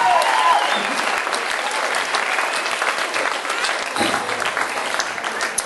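A holiday-park show bar crowd applauds a performer, loud sustained clapping with some cheering voices and a brief whistle early on, holding steady throughout.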